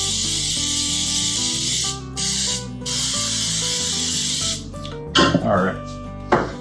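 Cooking spray hisses steadily from a can as a cake pan is coated for a sour cream pound cake. Two long blasts broken by brief pauses are followed by shorter bursts, heard alone and close up.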